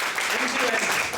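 An audience at a cultural program bursts into dense, steady clapping, loud and continuous throughout the brief moment.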